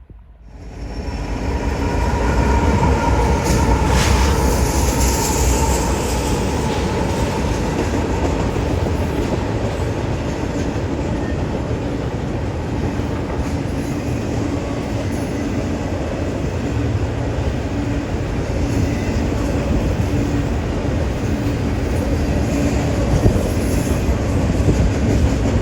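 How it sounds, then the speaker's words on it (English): A heavy Union Pacific freight train rumbles past at 50 miles per hour on the La Grande Subdivision, a loud continuous roar with rolling wheel clatter and a faint high whine. "the train passes at 50 miles per hour"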